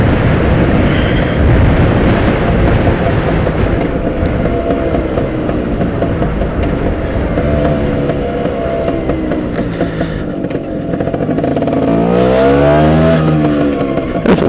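A Stella LML 150 scooter rides through rural Southington, Connecticut, its engine a steady, continuous drone close to the mic, with wind rumble, and a rising engine note toward the end as it climbs a hill.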